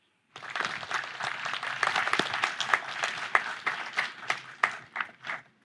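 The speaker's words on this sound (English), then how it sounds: "Let's give another round of applause for our very special honorary degree recipient" Audience applause at a spring law school commencement ceremony, a sustained wash of many hands clapping that starts abruptly, stays steady and full, then thins into scattered louder claps near the end, with no talking.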